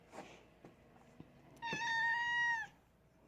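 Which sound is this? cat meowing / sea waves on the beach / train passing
cat meowing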